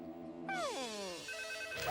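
A cartoon telephone starts ringing partway through with a bright electronic tone that sweeps downward and then settles into a steady chiming ring, fairly clear and close.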